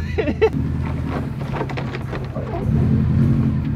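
A lowered Subaru WRX drives slowly over rough, rocky ground, its engine a steady low rumble with wind noise on the microphone and a few light knocks and scrapes.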